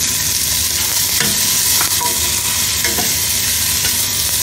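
Oil frying hard in a pan while making Kerala kadala curry, a loud continuous sizzle with a few scraping stirs of a spoon, close and with no talking.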